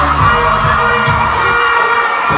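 Loud cheering and shouting from a live audience at a school stage show, with rhythmic low booming beats under a constant wall of crowd noise.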